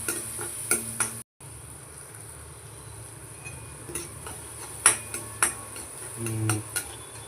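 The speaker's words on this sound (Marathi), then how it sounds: "आता कांदा कांदा थोडासा नरम पडेपर्यंत आपण याला थोडासा तेलामध्ये फ्राय करून घेऊया" Cumin and onion frying in hot oil for Marathi tawa pulao, a steady hissing sizzle with a few scraping stirs and light clinks of a spatula, no voices.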